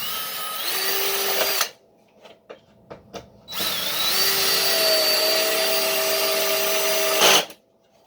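A power drill drives a big screw to bolt down a Kobalt saw, with two loud, close bursts of whirring separated by a few short clicks and taps.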